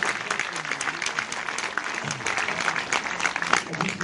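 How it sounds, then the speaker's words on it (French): Audience applauding the actors at a special film screening, a dense, steady wash of clapping from a crowd sustained throughout, with faint voices mixed in. "Vous pouvez les applaudir"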